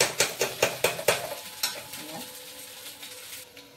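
Food is being fried in a pan and stirred with quick, regular scraping strokes over a soft sizzle, about a dozen strokes that slow and thin out toward the end, with no voices.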